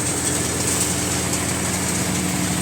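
An Indo Farm 3048 DI tractor engine runs a Param Tokri model thresher crushing mustard crop at night, giving a steady, loud, continuous drone with a constant mechanical hum and no break.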